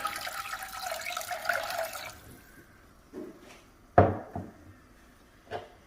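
Six cups of water poured into a small Dutch oven for café de olla, a steady splashing pour for about two seconds, followed by a few separate clunks and knocks of the pot and lid.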